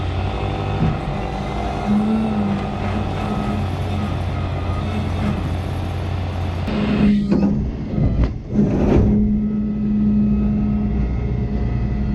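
A car pulling out of a parking lot at a Lamborghini dealership, a steady close engine drone with a brief rise and disturbance partway through before settling back to a constant hum.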